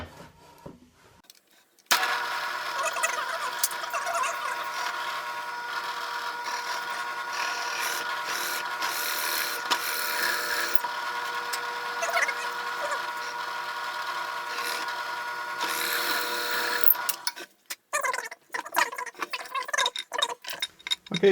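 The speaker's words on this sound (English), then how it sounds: "Alright, so I'll countersink the other side." Power drill countersinking a hole in wood for a workbench leg vise, running steadily for about fifteen seconds with a whining, slightly fluctuating tone, close by, then stopping into clattering handling sounds.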